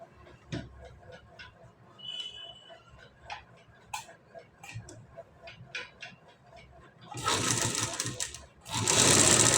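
Sewing machine stitching piping onto the back design of a blouse, running in short fast bursts of rapid ticking, then loud continuous whirring runs near the end.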